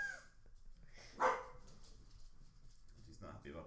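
A dog gives a single sharp bark amid a chatty group of people talking over it; the rest is voices with faint background noise.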